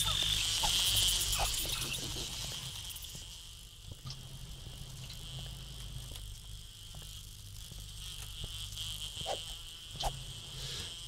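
Bees buzz in the zombie survival game 7 Days To Die, a steady, high insect drone that runs throughout at moderate loudness, with small clicks and game noises scattered over it.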